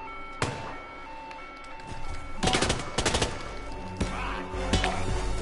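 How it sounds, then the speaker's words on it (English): Machine guns in Hitman 2 (2018) fire rapid bursts of shots, first scattered cracks and then dense rattling volleys, over a steady in-game ambience with faint beeping tones. "Freaking machine guns, man."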